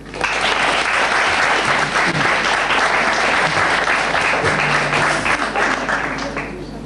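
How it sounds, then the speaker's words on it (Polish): A studio audience at a television music programme claps loudly and continuously for several seconds, the full, even applause easing slightly at the end. "A my oczywiście brawa dla Kasi."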